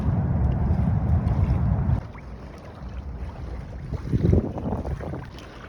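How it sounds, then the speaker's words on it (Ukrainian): Strong gusting wind buffets the microphone in a loud, rumbling roar, easing briefly before surging again, with no voices. "От Відчутно який вітер."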